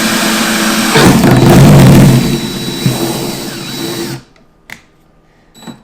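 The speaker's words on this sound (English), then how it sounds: "we're going to put this on drill" A loud power drill whirs close by for about four seconds, surging then winding down, followed by a few faint clicks in near silence.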